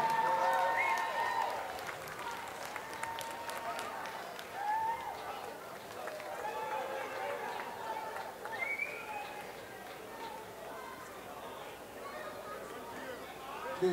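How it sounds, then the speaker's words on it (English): A concert audience at the Wolf Den at Mohegan Sun applauds and cheers through a hard rock show, producing steady, fairly distant crowd noise with whoops and a voice over it. "Applause up here, everybody."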